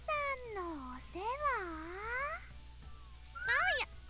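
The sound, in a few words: cats meowing in the video game Hyperdimension Neptunia Re;Birth 3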